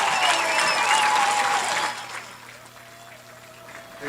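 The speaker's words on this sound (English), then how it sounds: "Ladies and gentlemen, please give a round of applause for our 2021 Bronco football seniors." A high school football crowd at Spring Hill's senior night applauds the Bronco football seniors. Loud clapping and cheering with a whistle fill the opening two seconds, then fade quickly to scattered claps and background noise.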